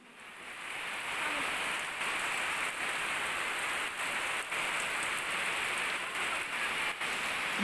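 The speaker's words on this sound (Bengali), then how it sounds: "দেখো বৃষ্টির কি কাণ্ড, বাড়ি থেকে বেরিয়ে অল্প দূর আসলাম আর অনেক বৃষ্টি পড়ে আছে" Heavy rain pours down steadily, a dense, even patter on surfaces that never lets up.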